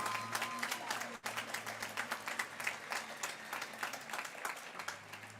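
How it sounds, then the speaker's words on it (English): At a W.F. West high school graduation ceremony, the crowd applauds families and community with steady, rapid clapping from many hands, heard at a distance over a low hum. "let's give them a round of applause"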